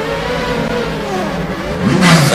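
A Champ Car racing game plays the Long Beach race, with a race car engine droning loudly and climbing in pitch as it revs. Near the end the engine swells into a stronger acceleration, and no one speaks over it.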